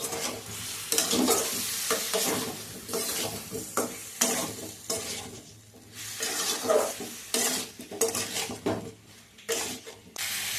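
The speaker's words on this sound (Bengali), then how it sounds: "এবার এটাকে মিডিয়াম টু হাই ফ্লেমে বেশ কিছুক্ষণ হলো আমি কষা কষে" Vegetables with ground spices and a little water are sautéed and stirred in a pot over medium-high flame for a vegetarian labra, giving a loud, uneven sizzle with repeated spoon scrapes and pot knocks, no talking.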